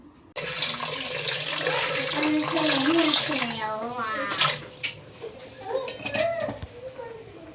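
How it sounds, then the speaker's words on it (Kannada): Water poured over sugar in a pot for gulab jamun syrup in a home kitchen, a steady splashing stream that fades into brief clinks, with a person talking over it. "ಸ್ವಲ್ಪ ಸಕ್ಕರೆನ ಹಾಕ್ಕೊಂಡು ಸ್ವಲ್ಪ ಅದಕ್ಕೆ ನೀರನ್ನ ಹಾಕ್ಕೊಂಡು ಇಲ್ಲಿ ಜಾಮೂನ ರೆಡಿ ಮಾಡ್ಕೋತಾ ಇದ್ದೀನಿ"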